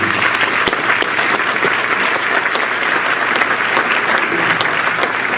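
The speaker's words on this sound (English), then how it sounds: "you need to give an applause" A crowd applauds steadily at a school honors ceremony, dense clapping filling the room at an even, sustained level throughout.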